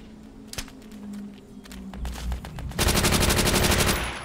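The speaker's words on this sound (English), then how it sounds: "That's how you use submachine gun." Submachine gun fire in the World at War online shooter, starting with a few single shots and short bursts, then a long rapid sustained burst, loud and close with no talk over it.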